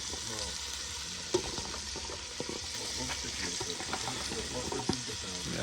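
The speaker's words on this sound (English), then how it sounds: "The sizzling, no?" Jamaican-style steamed fish sizzling in a pan at night in the hills of St. Andrew, a steady hiss and crackle with occasional sharp pops and clinks, close by.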